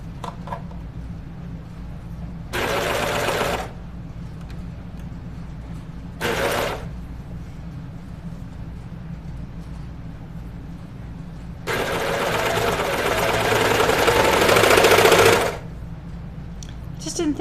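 A sewing machine stitches the seam of a striped Linden sweatshirt in three bursts, two short and one longer, with quiet pauses between them.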